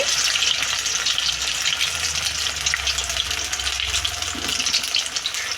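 Poha vadas frying in hot oil, a loud, continuous close-up bubbling sizzle that holds steady throughout with no talking.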